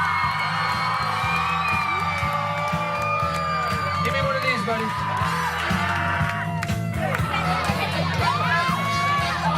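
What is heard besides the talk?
crowd cheering and children shouting at a bar mitzvah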